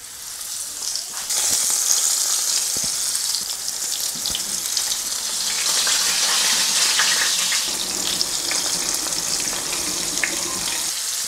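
Loud, steady sizzling of flour-dredged fish frying in a hot pan, a dense crackling hiss with occasional pops, close by, with no voices.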